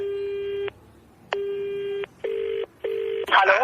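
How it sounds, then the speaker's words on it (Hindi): Telephone line tones while a call is placed, a sequence of steady electronic beeps in four separate blocks with short gaps, close and clear, ending in a brief burst of noise. "हम आपको फोन करते भैया"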